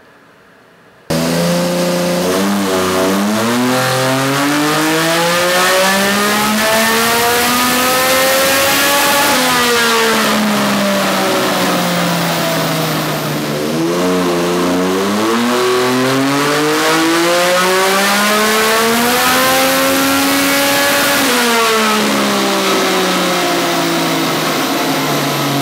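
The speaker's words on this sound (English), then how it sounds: "so we can do some dyno runs now" Turbocharged Yamaha MT-09 motorcycle on E85 fuel, run on a dyno, revs loudly and up close in repeated rising sweeps, each climb to a high-pitched roar then falling back, continuing without pause and with no talking.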